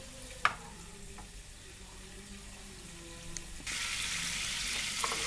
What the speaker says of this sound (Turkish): Bir yemek kaşığı tereyağını tavada eritiyorum ve bir yemek kaşığı unu kavuracağım